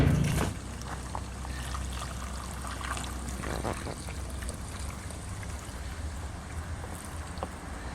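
Acetone pours into an old car's gas tank, a steady close trickling and splashing that runs for several seconds after a brief knock at the start, with no talking.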